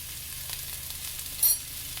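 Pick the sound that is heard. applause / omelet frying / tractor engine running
omelet frying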